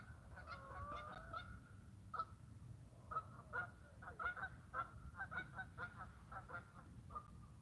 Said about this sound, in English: playing with his ducks